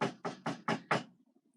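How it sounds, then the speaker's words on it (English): Five firm knocks on a castle door, evenly spaced and close, each with a brief hollow ring, followed by quiet. "he tapped on the castle door"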